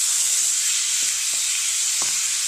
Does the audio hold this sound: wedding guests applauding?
no